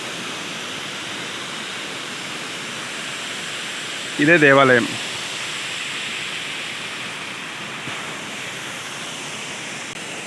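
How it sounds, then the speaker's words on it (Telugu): Steady broadband rush of a waterfall near the Dhopeshwar temple in Ratnagiri, Konkan, filling the whole clip at an even level, with a brief voice speaking partway through. "దగ్గరలో సుందరమైన వాటర్ ఫాల్ చూడండి ఎలా ఉందో."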